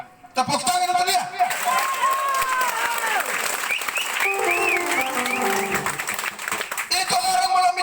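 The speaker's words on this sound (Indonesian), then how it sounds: "Tepuk tangan untuk dia." Outdoor crowd at a regional election campaign rally in a village breaks into sustained clapping and cheering, loud and continuous for several seconds, with voices calling over the applause.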